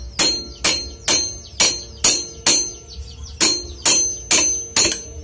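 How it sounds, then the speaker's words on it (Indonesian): An iron bar hammering at a bolt on an LPG gas roller to loosen it, ten loud, ringing metallic strikes in a steady rhythm, close up and alone. "Diketok lagi sampai benar-benar baut longgar"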